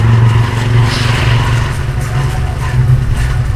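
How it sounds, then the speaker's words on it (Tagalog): Steady, loud road traffic with car engines droning and rumbling close by, a continuous low roar that swells slightly at moments, with no talking. "Traffic!"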